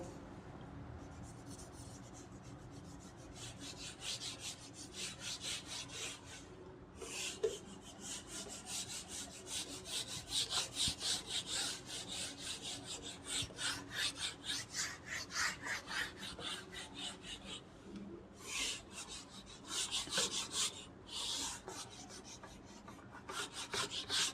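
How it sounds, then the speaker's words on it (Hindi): Writing on a board during a maths lesson is rubbed out in long stretches of rhythmic, rasping back-and-forth strokes, close and fairly loud, with short pauses between bursts. "अभी मैं रब कर देता हूँ इसको।"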